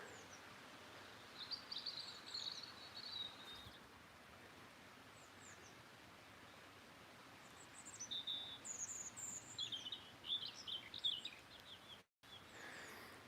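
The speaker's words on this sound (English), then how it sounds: "There's lots of birds around here." Birds sing from farm hedges in short, high chirping phrases, faint and distant, with a brief burst early on and livelier overlapping calls later against a quiet outdoor hiss.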